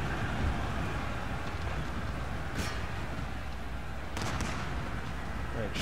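Musket volleys from an Empire: Total War battle on a Mughal campaign with Darthmod, heard as dense continuous crackling battle noise with a couple of sharper bursts, while a man gives commands over it.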